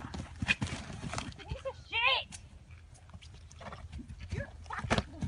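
Horse hooves clip-clop in uneven steps, mixed with a short whinny and voices talking over the sound.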